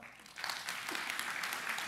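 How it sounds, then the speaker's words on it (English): A church congregation applauds together, a steady wash of clapping that swells after a brief quieter start and holds at moderate level without a break. "Let's give her a round of applause."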